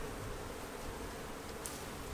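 Honeybees buzz steadily at a beehive kept at a high school, a continuous faint drone with light rustling, no voices, holding evenly throughout.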